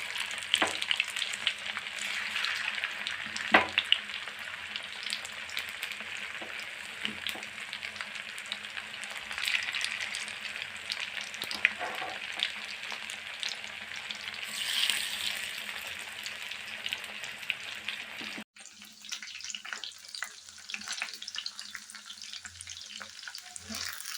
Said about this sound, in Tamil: ஒரு பீஸை எடுத்து எண்ணெயில் போடலாம்.